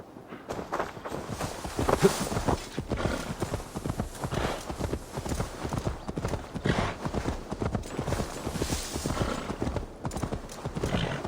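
Continuous clip-clop of horse hooves in Assassin's Creed Valhalla at a steady trotting rhythm, close and clear, with an occasional whinny.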